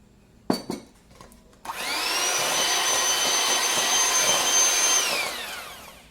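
An electric mixer on low speed whirs into pear, raisin and almond cake batter after an egg is added, a loud steady motor drone lasting several seconds after a few soft knocks, then winding down.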